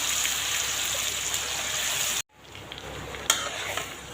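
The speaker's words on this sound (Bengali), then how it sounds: "সর্ষে তেল গরম করে নিয়েছি এবার সব মশলা মাখানো মাংস দিয়ে দিচ্ছি" Spiced meat frying in hot mustard oil in a wok gives a steady, loud sizzle that cuts out abruptly partway, then resumes more softly with a sharp crackle near the end.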